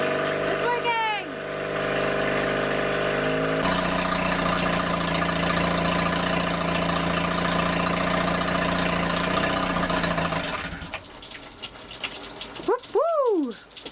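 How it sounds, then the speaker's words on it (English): A repaired outboard boat engine runs at a steady idle on the water for about ten seconds, a constant mid-pitched drone, then cuts away to quieter sounds with a short whistling tone near the end. "we got the outboard going tonight"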